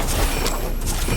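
Dense burst of video game gunfire, a loud rapid volley of shots from a gun crackling and booming without pause, alone with no talk.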